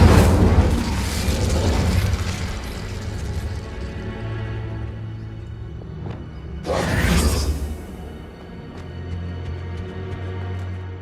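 Fire spell cast in Hogwarts Legacy: a deep roaring whoosh and booming burst of flame, then a second sharp flaring rush of fire partway through, loud and close over low rumbling ambience.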